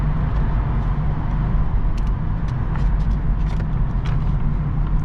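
A car driving on the road, heard from inside as a steady low engine and tire rumble with road noise throughout, no talking.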